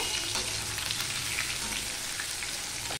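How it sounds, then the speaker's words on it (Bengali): Dense, steady sizzling of boiled potatoes frying in hot oil, close and continuous with no voices. "এমনিতেই আলুটাকে ভেজে নেব"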